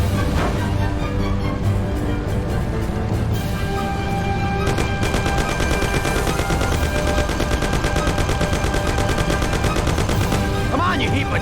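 Gunfire in the PC game Mafia as the player and his partner Sam shoot together: a steady, dense, close volley of rapid shots and booming reports that continues without letup.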